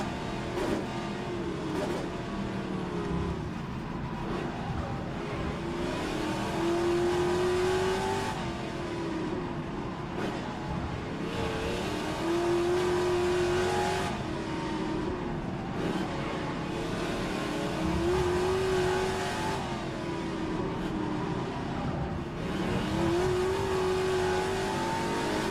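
A classic Trans-Am race car engine roars at the Adelaide circuit, loud and sustained, with repeated rising revs and gear changes as the car passes, no talk over it.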